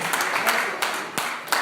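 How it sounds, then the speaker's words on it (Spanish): A church congregation claps at a sermon, a short burst of applause with a few sharper individual claps standing out, moderately loud with a voice mixed in. "Denle un aplauso fuerte al Señor."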